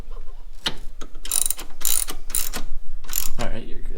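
A ratchet wrench adjusting a camber plate on a Camaro SS 1LE or ZL1, heard as a series of loud, close clicking ratchet strokes in quick bursts.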